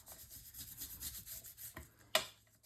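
A paper hinge on a Stamperia mini album cover pressed down and rubbed firmly to adhere it, a soft, close, repeated rubbing swish, ending with a couple of sharper taps.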